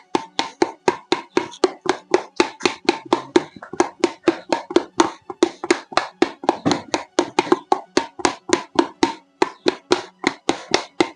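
A handmade clay curry pot has its open bottom closed by beating it with the hands, giving a long run of fast, even, dull thuds at close range with a few short pauses.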